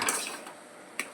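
Spices frying in a pan in a small home kitchen, stirred with a utensil: soft metallic scrapes and light clinks, faint and close, with one sharper knock near the end.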